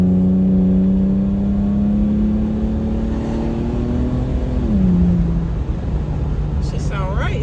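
A car engine fitted with a Manzo catback exhaust holds a loud steady drone, rising slightly in pitch under throttle and then dropping as revs fall, close and continuous throughout.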